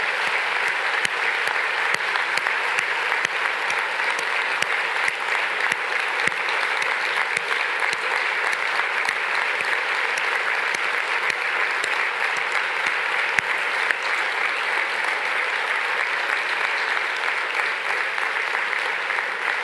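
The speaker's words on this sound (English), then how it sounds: "please join me in a big round of applause for the team that has worked so hard to make such a fantastic program for you" An audience at a mayor's event in Denmark applauds the program team after a keynote speech, giving steady, dense, sustained clapping from a large crowd that fills the whole stretch without a break and with no voices over it.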